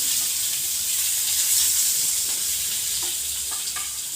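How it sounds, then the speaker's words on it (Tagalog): Onions sauté in a pan with a steady, bright sizzle and occasional soft stirring, moderately quiet and without speech. "Lagay natin ng sibuyas igigisa."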